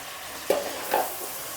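Sliced bitter gourd and onion frying in a pan, a soft steady sizzle with two brief scraping stirs, close and quiet, no talking.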